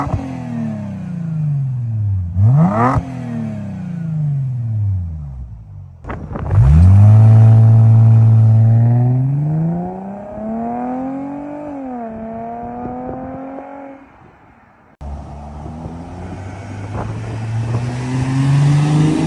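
A Mercedes C300 M272 engine with a homemade double H-pipe exhaust revs repeatedly, the exhaust rising and falling in pitch through several loud throttle blips, close by with no talking.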